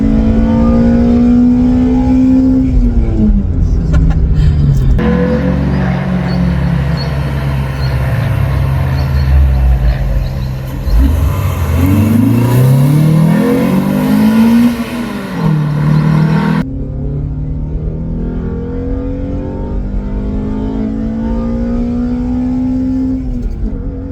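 A Toyota Altezza engine revs repeatedly, rising and falling through the rpm range, loud and close for most of the stretch, with a sustained high-rev section in the middle.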